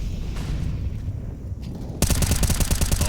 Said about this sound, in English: the spam and the nade is very well placed there from Maluk